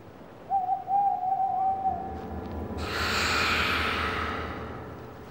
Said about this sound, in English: Apparently, it's unlucky if an owl hoots at midnight.